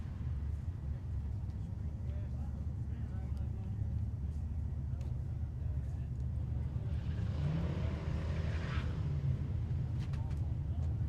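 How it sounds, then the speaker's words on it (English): Buick Skylark drag car with a 455 EFI engine and a 5-speed roars down the strip at a hot rod drag event, a distant engine rush swelling and passing under an announcer's voice. "Here comes Randall Burns again in the Buick Skylark 455 EFI and a 5-speed."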